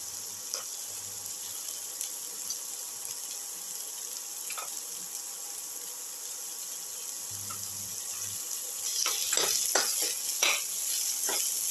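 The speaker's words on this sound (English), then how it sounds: "Sauté the garlic" Garlic sautéing in a pan with shallot and ginger, a quiet low sizzle broken by a few scraping stirs and clinks that grow busier toward the end.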